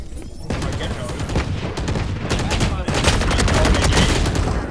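Video game gunfire, dense bursts of rapid shots and rattling automatic fire that grow heavier and louder toward the end, with voices mixed in under the shooting.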